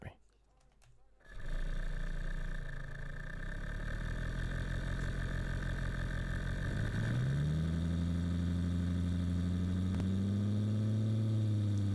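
Simulated car engine in Engine Sim software, idling steadily then revving up to higher RPM with rising and falling harmonic tones, loud and continuous throughout.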